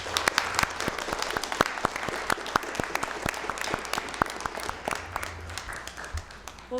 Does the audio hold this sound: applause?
yes